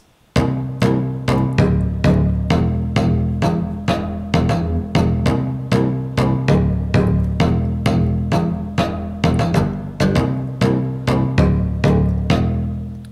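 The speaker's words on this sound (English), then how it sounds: "it's using Omnisphere over here, a preset that I found, and I modified the arpeggiator sequence" A modified Omnisphere synth bass preset plays an arpeggiated sequence of steady, rapid repeated notes with sharp attacks, looping evenly at a loud, close level for a pop production part with no voices.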